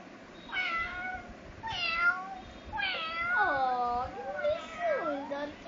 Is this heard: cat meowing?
yes